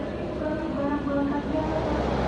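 Economy passenger train stopped at Wates station: a steady, close low rumble fills the carriage throughout, with passengers' voices murmuring over it.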